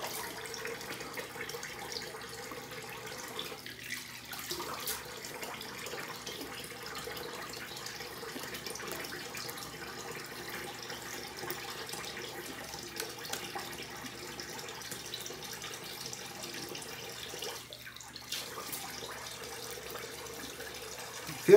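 A tap runs steadily into a sink while shaving soap is rinsed off a face, a close, constant hissing water stream for about twenty seconds with a couple of brief breaks where hands pass under the flow.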